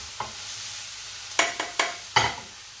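Onions fry in a pan under a steady, faint sizzle, while a few sharp scrapes and taps of a utensil stirring them stand out above the bed of hiss.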